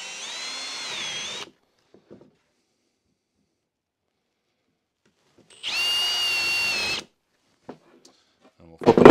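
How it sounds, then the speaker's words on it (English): Two bursts of a power drill whining at steady pitch, each lasting over a second, separated by a quiet pause with faint handling clicks, as a spade bit bores halfway through wood. "We're gonna be using my spade bit, and we're gonna be doing the drill halfway through"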